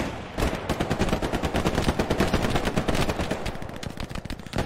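In the World War II shooter game Hell Let Loose, loud rapid gunfire rattles as dense machine-gun bursts, continuous and close, with no talk.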